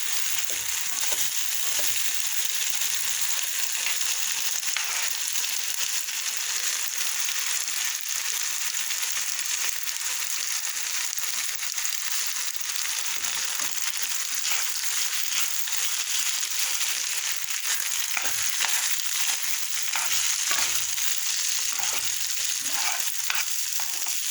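Food cooks in a pan with water added and is stirred now and then, a constant bright sizzle with occasional scraping and clinking of the utensil over a long unbroken stretch.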